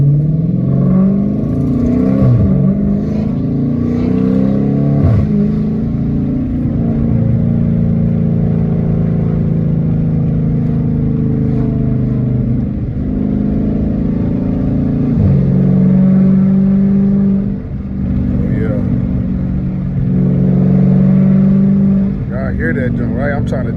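Catless Dodge Challenger R/T on a highway in traffic, heard from inside: a steady loud exhaust drone with surges as the engine revs, under frequent talking.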